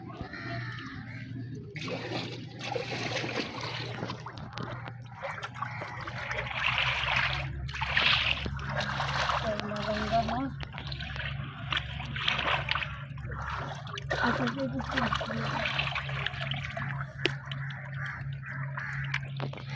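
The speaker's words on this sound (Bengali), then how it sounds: "এখন একদম ভরা জোয়ার।" River water at a bathing ghat at high tide laps and trickles steadily nearby, a soft continuous wash with faint voices and other activity in the background.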